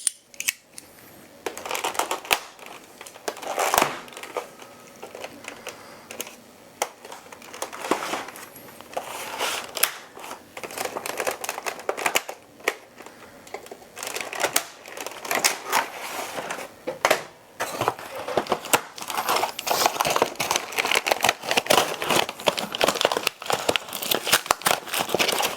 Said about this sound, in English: So let's get into the box, get these zip ties off, and get the darts out